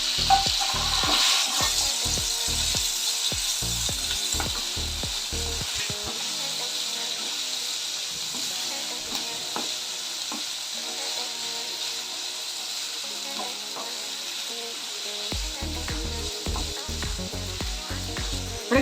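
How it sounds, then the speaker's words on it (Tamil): Mutton pieces coated in ginger-garlic paste and salt fry in oil for mutton chukka, giving a loud, continuous close sizzle. Bursts of stirring clatter come at the start and again near the end, with no voices. "பாருங்கள், இந்த எண்ணெயில் வதங்கிக்கிட்டு இருக்கு."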